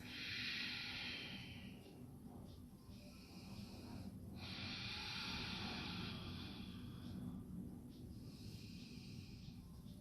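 Slow, deep breathing during a gentle yoga practice, long airy inhales and exhales swelling and fading in a steady rhythm, close and fairly soft with no talking.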